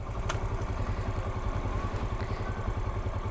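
A manual motorcycle in first gear, held at the clutch's biting point, gives a steady, low, close engine chug with a faint mechanical clatter and a couple of light ticks.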